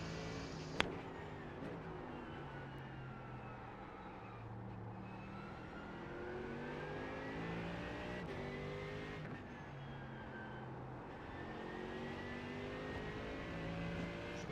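Race car engine in iRacing at Spa: a continuous revving drone rising and falling through gear changes, with a sharp click near the start, heard in-car and steady throughout.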